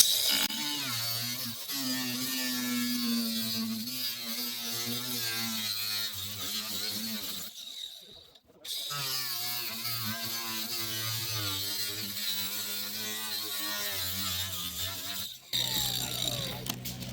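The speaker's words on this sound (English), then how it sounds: "This grinder blade sucks." Angle grinder with a worn blade cutting through vinyl siding on a gable end, producing a loud, continuous whining grind with a brief pause partway through before cutting resumes.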